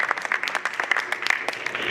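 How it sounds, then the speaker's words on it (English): An audience applauds on a live talk show, with dense, continuous clapping that is moderately loud and close, lasting a couple of seconds. "Huge round of applause for these guys."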